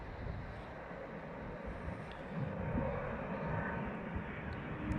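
A DHL Airbus A300, an old freighter, passes at night with a steady, broad jet engine roar that swells slightly midway, sounding moderately distant and continuous throughout.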